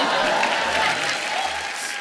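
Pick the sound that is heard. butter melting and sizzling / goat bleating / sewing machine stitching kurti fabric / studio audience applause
studio audience applause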